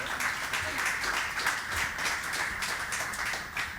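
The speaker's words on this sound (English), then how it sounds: "And an applause for Maria, a spontaneous one." An audience claps steadily for a presenter at a data and ethics event, a continuous patter of applause at moderate distance.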